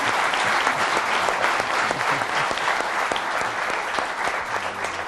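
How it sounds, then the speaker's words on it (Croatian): An audience at a public forum on the Roma in Bosnia and Herzegovina bursts into sustained applause, with dense, steady clapping close and loud throughout, plus light crowd murmur. "Jedan aplauz."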